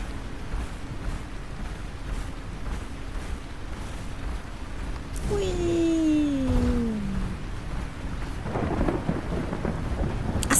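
Rain and thunder in the video game Lightyear Frontier: steady rainfall hiss with deep rumbling thunder rolling in midway, joined by a gliding tonal whine, with no talk over it.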